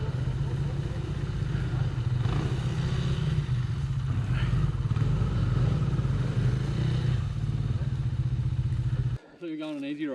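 A dirt bike climbs a muddy hill on a trail ride, its engine droning loud and continuous with rough clattering textures until it cuts off abruptly near the end.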